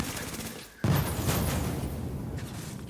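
Gun turret opening up in The Division, a sudden loud burst of rapid automatic fire after a quieter lead-in, sustained and close for the rest of the moment.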